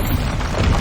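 A single brief, loud low boom from a Bombarda blasting spell in Hogwarts Legacy, dense and rumbling throughout its short span.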